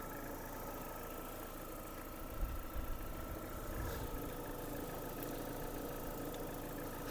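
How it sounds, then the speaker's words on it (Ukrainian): A 2005 Opel Zafira 1.8 automatic idles steadily with a low, even hum and slight mechanical vibration, a brief louder rev in the middle, no talking. "Робота двигуна"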